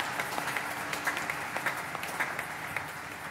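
A church congregation claps and applauds in praise, a moderate, sustained patter of many hands with no voices over it.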